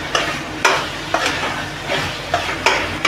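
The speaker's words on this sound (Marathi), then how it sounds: "सगळा कलेजी पेठाला तेल सुटेपर्यंत चांगला परतून घ्यायचा." Chicken liver and spleen being sautéed in spice masala, with repeated stirring scrapes over a steady oily sizzle, the stirring strokes coming every half second or so, close and fairly loud.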